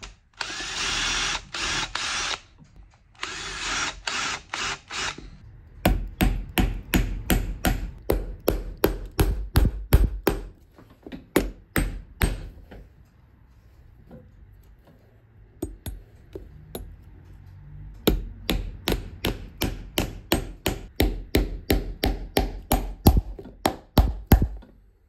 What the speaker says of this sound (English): make a small pilot hole in the heel block first before we whack them in